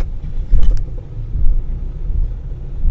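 A vehicle drives along an empty road at night, a loud, steady engine rumble and road noise close by, with one brief louder swell near the start.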